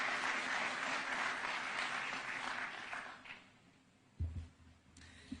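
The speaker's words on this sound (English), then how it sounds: "Let's welcome her with a clap." An audience at the YouTube Black Voices closing ceremony at State House, Nairobi, claps to welcome a speaker to the stage; a dense, steady burst of applause fills the room, then thins and fades to scattered claps and stage noises.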